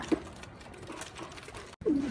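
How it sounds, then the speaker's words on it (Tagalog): A young racing pigeon returning to its loft after a training release in Lucena, Quezon gives a soft, low coo at the end, after a brief faint call earlier, in a quiet outdoor setting. "mga ka-Stanley Boy, eto na yung pinakabata kong kalapate."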